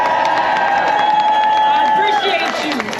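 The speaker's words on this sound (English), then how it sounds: "Can we clap it up real quick?" Outdoor May Day rally crowd in Foley Square, New York, claps and cheers loudly in a dense continuous burst of applause and shouts, with voices calling out over it.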